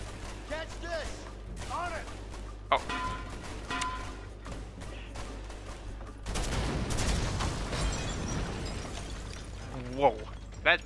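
Bursts of gunfire in the video game A Way Out crackle in quick volleys, followed by a louder, denser stretch of shots and blasts, with a voice talking over parts of it.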